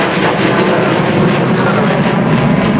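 An Avro Vulcan bomber roars low overhead at the Farnborough Airshow during an overshoot, a loud, continuous broadband jet rumble holding steady throughout with no talk.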